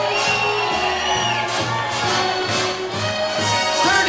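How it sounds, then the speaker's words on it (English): Wedding guests in a reception hall cheer and whoop with crowd noise, steady and loud over music with a thumping bass beat. "I want a nice round of applause for this number."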